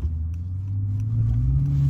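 A Mercedes S65 AMG on summer tires stuck in a snowy driveway, its engine droning low and steady and rising slightly in pitch as it strains, close and continuous.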